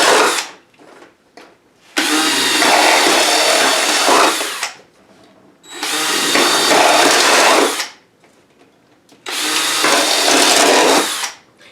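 A power drill with a drill bit bores drainage holes through stacks of plastic cups in three loud, sustained whirring bursts of a few seconds each, separated by short pauses with faint handling clicks.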